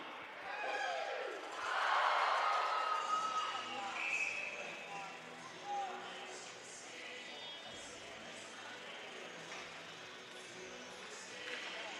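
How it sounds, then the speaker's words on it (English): A home crowd roars at a college club hockey game, Central Oklahoma Bronchos hosting the Oklahoma Sooners in ACHA play; the cheer swells loudly in the first few seconds, then settles into a steady rink murmur. "the crowd lets us know just who the home team is this evening"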